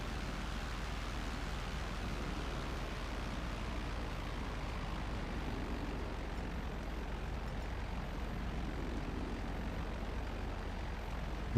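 Steady roar of a B11 fighter jet in flight at high altitude in GTA Online, a continuous even engine drone held at a constant level throughout with no talking.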